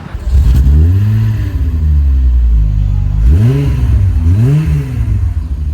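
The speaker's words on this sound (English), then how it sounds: "There's a modded exhaust, and the V6 on this car sounds extremely nice." A V6 car with a modified aftermarket exhaust revs loudly and close by, its engine note rising and falling in several strong sweeps over a steady deep drone, with no voices.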